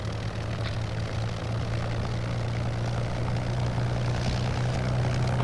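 A propeller plane drones with a steady low engine hum as it comes in to land in the Toska air battle video game, growing slightly louder toward the end, with no voices.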